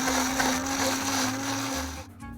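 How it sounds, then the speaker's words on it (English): A kitchen blender whirs at full power, blending tomato gazpacho with a loud, steady motor whine that cuts off near the end. "The blender does all the hard work for you."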